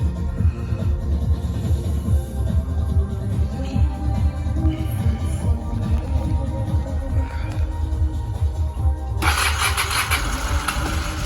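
A Honda VRX400 motorcycle, its carburettors just rebuilt and fitted with a new battery, cranks and fires into a throbbing, loud idle close by, and a sharp burst of hiss cuts in near the end.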